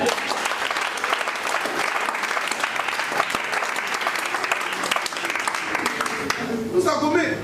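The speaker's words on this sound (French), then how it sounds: "Est-ce que quelqu'un veut me donner une acclamation?" Applause from a church congregation during a sermon, a sustained burst of many hands clapping fairly close, with voices mixed in and a speaker resuming at the end.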